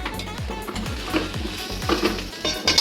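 Bread upma is stirred in a hot pan, a spoon scraping in quick regular strokes over a crackling sizzle, with a few louder clatters near the end and no speech.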